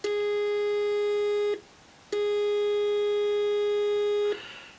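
Square wave tone passed through a one-transistor two-pole audio filter, a steady buzzy electronic tone in two sustained blocks separated by a short silence, loud and alone.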